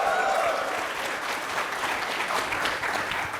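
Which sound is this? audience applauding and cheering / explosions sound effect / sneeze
audience applauding and cheering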